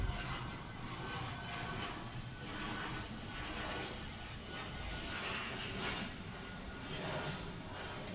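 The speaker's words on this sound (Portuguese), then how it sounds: "tem um avião passando aqui" An airplane passing overhead produces a steady, broad roar that holds at moderate distance throughout, fairly faint and without talk.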